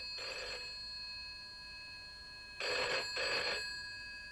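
A telephone rings in a children's animated story set at a village post office, two bursts of bright electronic trilling separated by a pause, the second louder and split into two quick rings.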